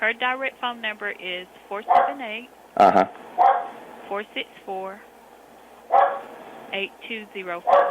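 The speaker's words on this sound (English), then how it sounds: "I'm sorry about the dog barking in the background." A dog barks intermittently in the background, several short barks scattered beneath someone speaking on a phone line.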